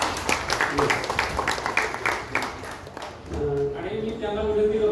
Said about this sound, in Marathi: सर्वांना विनंती की त्यांच्याबद्दल टाळ्या वाजवाव्या एकदा